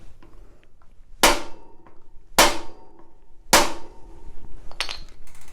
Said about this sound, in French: on va venir donner plusieurs coups secs avec le marteau